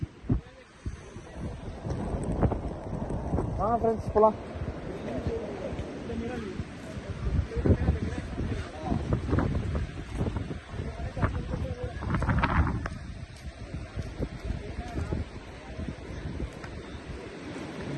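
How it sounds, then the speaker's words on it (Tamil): Strong wind buffets the microphone on the Doddabetta mountain peak near Ooty, a steady broadband roar with gusty surges throughout, while people talk over it. "மொத்த காற்று இப்படி தான் அடிக்குது."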